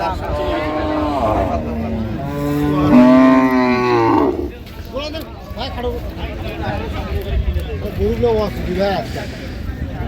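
A loud, drawn-out moo from a Friesian cow rises and ends abruptly, followed by a noisy crowd and chatter at a cattle market in Cox's Bazar.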